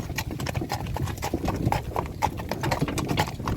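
Mares' hooves clip-clopping at a steady walking rhythm on a hard surface, close by, with faint background sounds and no talk.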